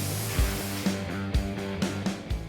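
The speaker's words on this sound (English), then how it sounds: "so they blow it off with some compressed air." Compressed air blows off a Buick chassis before powder coating, giving a steady hiss with short, sharp bursts as the nozzle moves. A broad rushing noise runs underneath throughout, with no talking.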